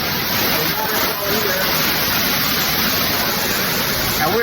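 A waterfall inside a cave on a golf-cart trail through a canyon, giving a steady, loud broadband rush that fills the whole clip without a break.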